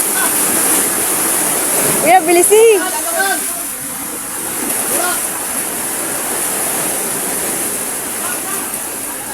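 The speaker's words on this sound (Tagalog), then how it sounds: "Kasi, laki ng alon," Large ocean waves crash and wash in a loud, continuous roar of surf, with excited voices calling out briefly over the water.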